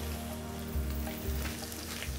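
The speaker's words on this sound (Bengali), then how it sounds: "এখন আমরা টক দইটা দিয়ে দিব" Sour yogurt goes into a pan of frying onion, garlic and chili, and a soft, continuous sizzle is heard with a few low thumps, fairly quiet and without any talking.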